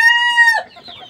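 A desi chicken on a large poultry farm in Shariatpur, where the flock is sick with a cold, gives a loud, sustained close call that drops into a few short, low clucks.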